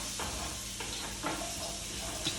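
Saffron hitting hot oil in a pan, giving a steady, close sizzle with soft stirring scrapes and a few brief clatters on top, no talk.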